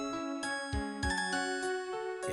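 A mobile phone ringtone plays a chiming, bell-like melody of clear repeated notes, steady and moderately loud, with no talk over it.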